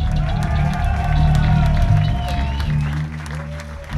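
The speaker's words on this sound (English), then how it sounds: "So a big round of applause for Paris" A Paris concert crowd applauds and cheers at a punk show, a dense and sustained roar of clapping, with a voice speaking over it and a ringing guitar tone above.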